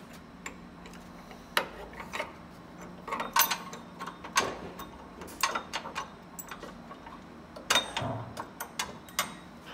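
A bolt is fed up from underneath during a 3-inch body lift on a Dodge Ram 1500, giving scattered light metallic ticks, clicks and taps at an irregular pace, close but fairly quiet.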